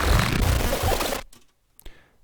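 Reversed bass sound processed with pitch shifting, a mono algorithm and wave shaping, in a glitch production: a dense, loud, distorted burst for about a second, then a near-silent gap with a brief faint blip.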